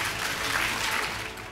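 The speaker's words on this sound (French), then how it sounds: "Merci d'applaudir" Steady, dense applause from an audience at a French women's awards ceremony fills the whole moment, a continuous wash of many hands clapping with no pause or voices on top.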